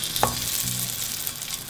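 Marinated parwal pieces sizzle steadily in hot oil in a frying pan over a medium flame, a close continuous crackle with a brief clatter of stirring near the start.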